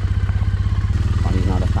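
Motorcycle engine running steadily on a gravel track, loud and close with a regular low throb, rider's voice talking over it and light clatter from the loose surface toward the end.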